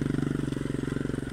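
A motorcycle engine revs with a steady, pulsing throttle beat, loud and close, while a learner rider handles the bike.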